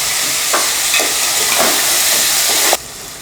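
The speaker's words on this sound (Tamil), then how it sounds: "தக்காளி நல்லா வதங்கிடுச்சு" Tomatoes and radish fry for sambar in a pan with a steady sizzle, marked by a few soft stirring scrapes, and then the sound cuts off sharply near the end.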